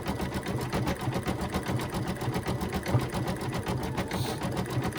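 An embroidery sewing machine stitching a bunny treat holder, a steady fast mechanical rattle with even rhythmic pulses, close and continuous with no talk.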